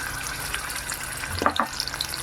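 Ginger, garlic and chili paste sizzles in hot oil while being cooked for spicy fish-roe pakoras, a steady close frying hiss with a few brief bubbly pops and scrapes partway through.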